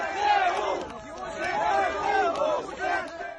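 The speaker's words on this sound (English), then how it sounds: "The chant, ZSU, Ukrainian Armed Forces, over and over again." Crowd in Kherson's Freedom Square chanting ZSU for the Ukrainian Armed Forces, a rhythmic two-beat shout repeated over and over by many voices, loud and sustained with whistles cutting through.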